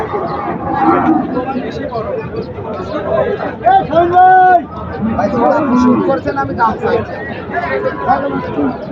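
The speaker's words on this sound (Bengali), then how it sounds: "জোড়া গরু কিন্তু অনেক সুন্দর, দেখতে পাচ্ছেন" Cattle mooing loudly nearby at a large cattle market, long low calls over a busy crowd with people talking and chattering around.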